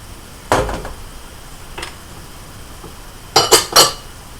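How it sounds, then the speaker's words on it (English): A metal lid clatters back onto a cooking pot of ham and vegetables on a kitchen stove, one clear clink followed by a faint tap and then a quick trio of sharp metallic knocks. "Put the lid back on there."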